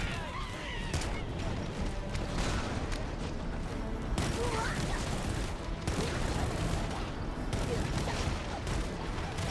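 Pistol fire and other weapon blasts from the Halo: Campaign Evolved video game form a dense, continuous barrage of booms and cracks, loud throughout with a voice mixed in.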